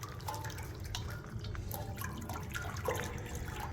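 Water sloshes and drips in a poultry scalder with dish soap added, for scalding waterfowl before plucking; a steady, close, low wash of liquid with scattered drips and small splashes throughout.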